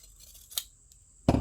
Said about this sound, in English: I should really get better scissors for this